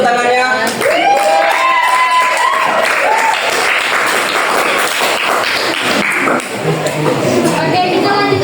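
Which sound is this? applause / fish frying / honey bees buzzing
applause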